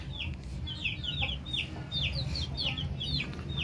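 Chicks being fed on a Filipino poultry farm give many high, rapid cheeping peeps, close and dense, over a low rumbling background, with no one speaking.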